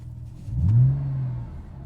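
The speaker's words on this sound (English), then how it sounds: "Sounds like sports exhaust fitted, although that's actually yet to be verified" A 2003 Porsche Boxster 2.7 (986) with what seems a sports exhaust gives a single rising rev, swelling to a loud peak then easing back to a low idle, with no talking over it.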